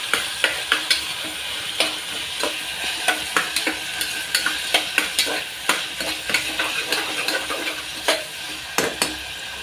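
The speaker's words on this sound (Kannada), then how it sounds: "ಇದನ್ನು ಫ್ರೈ ಮಾಡ್ಕೊಳ್ಳೋಣ" Green peas frying in a pan for vegetable pulao, a constant close sizzle punctuated by regular sharp clicks and scrapes of a spatula against the pan.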